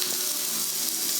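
A burger patty hisses in a frying pan, a brief, steady, bright sizzle heard close up with no voices.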